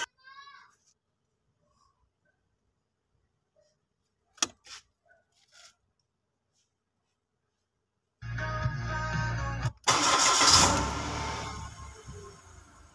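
A car engine cranks and catches after a quiet stretch with a few faint clicks, then runs as a loud, rough idle that swells briefly, with speech around it.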